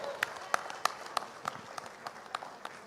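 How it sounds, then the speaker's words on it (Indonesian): A studio audience gives a round of applause for Surya Paloh on the Kick Andy talk show, steady moderate clapping with distinct sharp claps standing out. "Karena itu kita berikan tepuk tangan yang meriah untuk Bapak Surya Paloh."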